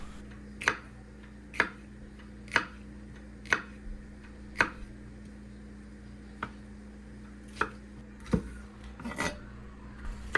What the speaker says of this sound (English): I cut down around the outsides, which keeps the seeds on the inside contained, and then you can just cut it into rib-like strips